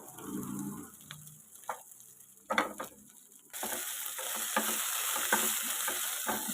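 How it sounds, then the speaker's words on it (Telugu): Garlic, cumin and tamarind frying in a pan, a faint crackle at first, then a louder continuous sizzle with scattered pops and occasional stirring scrapes, close by. "అందులోనే వెల్లుల్లిపాయలు, జీలకర్ర వీటిని కూడా వేయించుకుందాం."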